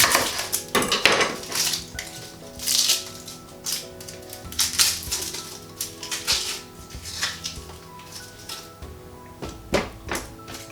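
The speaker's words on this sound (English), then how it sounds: "So to chop the onions, just needs to be all roughly chopped." A knife roughly chopping onions on a chopping board, irregular bursts of sharp knocks and taps, close and fairly loud, with music playing softly underneath.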